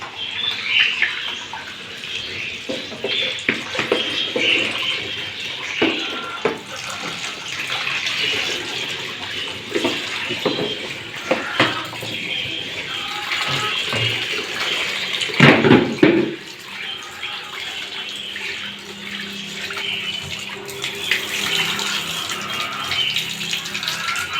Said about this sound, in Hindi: सबसे पहले झींगे को अच्छे तरीके से निचोड़ लेंगे